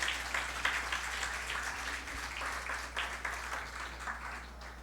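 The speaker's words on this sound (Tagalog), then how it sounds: "isa pa nga hong malakas na palakpak para sa Panginoon" A church congregation claps together in praise of the Lord during a worship service, a sustained, dense wash of applause that stays steady and moderately loud before tapering slightly.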